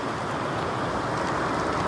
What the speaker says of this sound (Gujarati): આટલો બધો વરસાદ ના હોય, પણ મજા આવે રહી છે વરસાદમાં